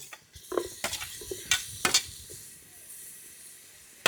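Green chilies, tomatoes, carrot and coriander are stirred in masala in a pan: a series of distinct scraping and clinking strokes from a spoon, with a soft sizzle underneath.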